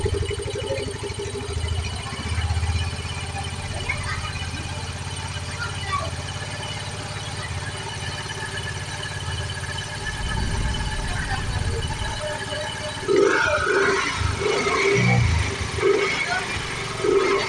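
A Yamaha Mio Z scooter engine runs nearby, a steady mid-level motor drone with some rising revs and clatter toward the end, while someone talks over it.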